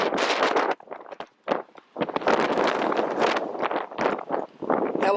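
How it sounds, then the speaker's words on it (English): Strong gusts of wind buffet the microphone in loud, uneven rumbling bursts with brief lulls between them. "Hella windy."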